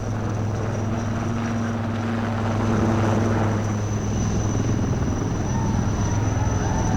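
Steady droning of a Dhruv helicopter overhead, a continuous rotor and engine hum with no voices, holding level throughout.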